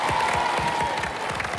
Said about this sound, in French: Quelques applaudissements pour les Bleus.